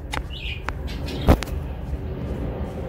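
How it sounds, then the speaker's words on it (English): Pet birds give a few short, faint chirps and tweets indoors over low background noise, with one sharper louder sound near the middle. "sorry for the background noises, like my birds and stuff"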